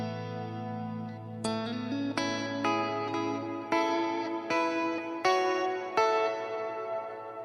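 Guitar through the Line 6 Helix Great Sky reverb preset: a held low chord, then a run of separate plucked notes, each blooming into a wide shimmering wash of ambient reverb that fills the gaps, with no talking.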